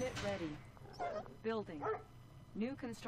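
Attack dogs in the video game Yuri's Revenge give a string of sharp barks and yelps, bursting out in quick clusters alongside someone talking.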